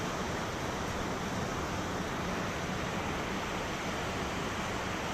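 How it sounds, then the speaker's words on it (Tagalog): Dense, steady hiss of heavy rain pouring down without letup, broadband and constant, with no talking. "Sobrang lakas ng ulan ngayon."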